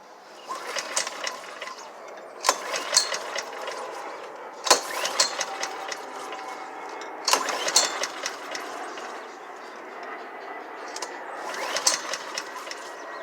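A Honda HRX 217 lawn mower with a cranking problem and a suspected carburetor fault is cranked over repeatedly. Its mechanical whirring and rattling comes in several sharp surges a few seconds apart, close and fairly loud, with no one talking.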